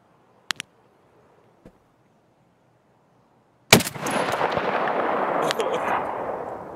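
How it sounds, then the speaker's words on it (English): Gunfire in the video game Escape From Tarkov opens with a few sharp isolated shots, then a loud sustained burst of rapid automatic fire with heavy echoing rumble. "He's shooting at the guy. He's shooting at your guy."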